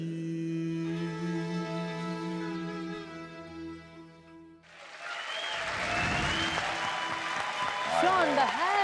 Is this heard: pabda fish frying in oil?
no